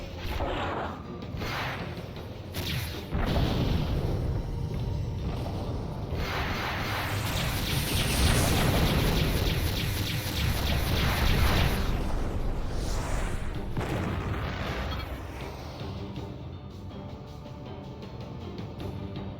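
Heat-seeking rockets fired in the Freespace 2 space combat game: a sustained roaring whoosh with rumbling, explosive swells that build through the middle and then fade, with no voices.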